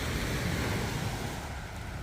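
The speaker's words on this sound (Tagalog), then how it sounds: "Kalmado na yung dagat." A calm sea washes against the shore at Barangay Bukana as a steady, dense rush that never breaks into distinct waves, mixed with wind buffeting the microphone, and no one speaks.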